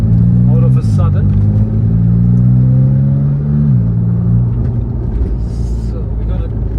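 A Porsche with upgraded performance brakes rolling at low speed, its engine a steady, loud low drone with a brief shift in pitch partway through, under constant road rumble.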